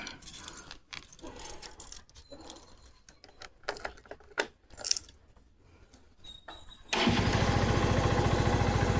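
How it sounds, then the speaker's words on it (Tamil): A two-wheeler motorcycle engine starts after about seven seconds of quiet handling clatter, then settles into a steady, loud, close idle that runs to the end without talk. "வண்டி ஸ்டார்ட் பண்ணியாச்சு."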